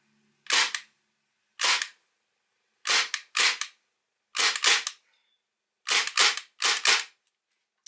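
A KWA MAC 11 gas blowback airsoft submachine gun fires without BBs, the bolt cycling in sharp, loud, close cracks, single shots and quick pairs spaced across the stretch with silence between them.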